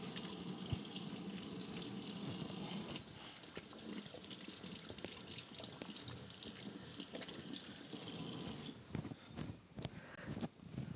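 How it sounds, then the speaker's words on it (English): Water running steadily from a sink tap while hands are washed, a constant close hiss with brief splashing and clatter toward the end. "Gotta wash your hands."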